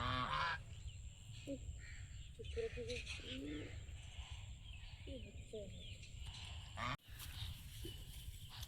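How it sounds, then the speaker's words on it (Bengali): Ducks honk and call intermittently nearby at an outdoor spot where a brick-and-mud stove for boiling paddy is being built, their squawks rising over background activity while a person talks. "হাঁসগুলো ভাবছে কি হচ্ছে এখানে সব ইট মাটি প্লেয়ার নিয়ে"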